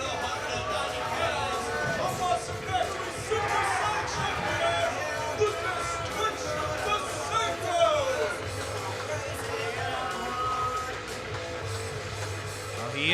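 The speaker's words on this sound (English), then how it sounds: "a bit of a mixed reaction here from the crowd" Wrestling crowd at a live independent pro wrestling show giving a mixed reaction to a wrestler's entrance, a continuous murmuring hubbub of many voices with scattered calls, heard under a commentator's talk.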